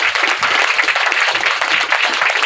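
Seminar audience breaking into loud, sustained applause, a dense, steady wash of many hands clapping together throughout with no pauses.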